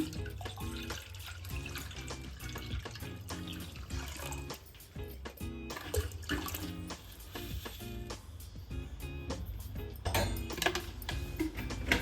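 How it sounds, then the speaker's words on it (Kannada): Water is poured into half a litre of curd to make buttermilk, a continuous splashing trickle broken by small clicks and drips, close by and fairly quiet, with no one speaking. "ಅದಕ್ಕೆ ನೀರು ಹಾಕೋಣ."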